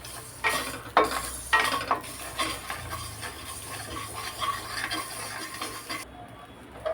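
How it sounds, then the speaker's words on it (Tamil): Garlic cloves frying with salt crackle lightly in hot oil, with a few louder scrapes and knocks of stirring early on, then a quieter, even sizzle. "அது கூடவே நம்ம தேவையான அளவுக்கு உப்பையும் போட்டு ஃப்ரை பண்ணிக்கலாம்."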